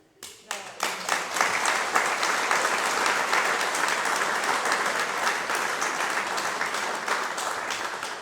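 Audience at a book presentation bursts into applause after a few opening claps, building quickly into sustained, even clapping that fills the room and carries on to the end.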